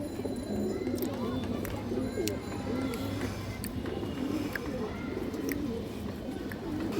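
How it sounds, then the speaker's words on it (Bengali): A silver toto female pigeon coos in steady low, rolling bursts throughout, close by and continuous, with a person talking over much of it. "অনেক সুন্দর একটা তোতা সিলভার মাদি কবুতর"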